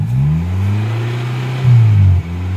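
A car being driven, heard from close by as a low engine hum with a couple of revving swells, the second louder, before the note drops away sharply near the end.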